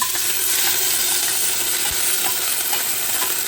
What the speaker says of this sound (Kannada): ಹಾಗೆ ನಾನು ನೆನೆಸಿ ಇಟ್ಟಂತಹ ಸಾಗುವನ್ನು ತುಪ್ಪದಲ್ಲಿ ಫ್ರೈ ಮಾಡ್ತಾ ಇದ್ದೇನೆ